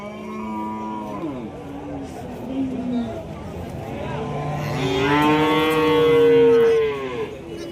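Cattle mooing at a weekly cattle market in Kundadam, where three bulls and heifer calves are tethered: several drawn-out moos, one loud and close near the end, with market chatter and crowd noise behind.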